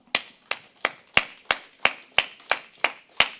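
Ten crisp, evenly spaced claps from an audience at a Korean church Bible lecture, each sharp and distinct, falling in a steady rhythm of about three per second with silence between.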